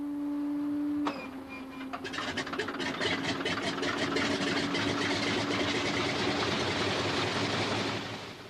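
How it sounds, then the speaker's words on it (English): A Pratt & Whitney air-cooled radial engine on a de Havilland Beaver aircraft coughs into life after a steady hum, then settles into a loud, rapid, throbbing run close by. "The sight and sound of the past, a Pratt & Whitney air-cooled radial engine. It is powering a de Havilland Beaver"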